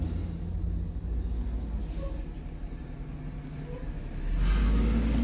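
Blue Bird school bus from Chafee Joint pulling out of a tournament location, its engine rumbling steadily nearby and swelling louder as it accelerates near the end.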